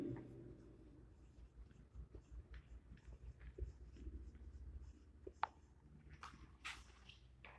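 A pen writes on paper at a quiet desk, producing soft, faint scratching strokes broken by small taps and pauses, with no voices.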